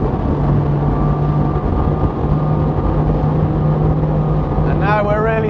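A Saxdor 320 GTO motorboat with trimmed-up engines runs at high speed, a steady loud engine drone with rushing water and wind throughout, rising in pitch near the end as it accelerates.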